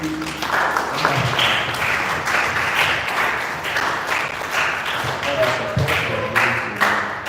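Audience applause for parents at a mental health awareness foundation event, a continuous wash of clapping lasting several seconds with faint voices underneath.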